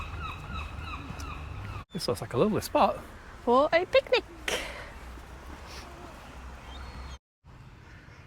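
Ducks honk and quack in bursts at a moderate distance in a park, mixed with a voice speaking nearby over a steady outdoor hum.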